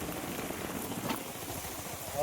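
A heavy monsoon downpour makes a steady, dense, faint hiss outdoors, with no break throughout.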